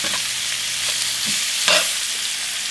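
Onions frying in a pan while being stirred, giving a constant loud sizzle broken by a few scraping strokes, with no voices.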